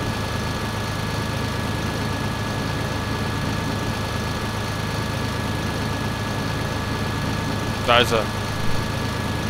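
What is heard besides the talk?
self-propelled sprayer engine idling, Landwirtschaft Simulator 2011 video game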